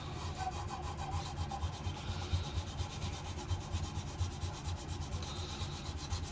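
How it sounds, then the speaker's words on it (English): Wood sanded by hand with 400-grit sandpaper gives a quick, steady rhythm of close, scratchy back-and-forth strokes, continuous and alone throughout. "I'm going to 400 grit on this."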